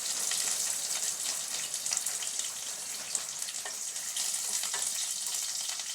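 Crushed garlic and curry leaves sizzle and fry in hot oil in a pan, a continuous bright crackling hiss that stays steady and close throughout, with no voices.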